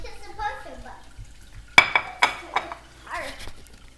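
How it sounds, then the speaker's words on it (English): A spoon stirs sticky marshmallow play dough in a bowl, giving a few sharp clinks and scraping knocks in the middle of the stretch. Quiet voices come before and after the stirring. "mix it in as best as we can with our spoon"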